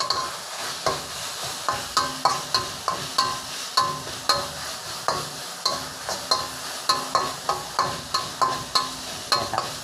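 Minced pork and holy basil leaves are stir-fried dry in a pan over a gas flame. A spatula scrapes in a steady rhythm about twice a second over a constant close sizzle, with no talking.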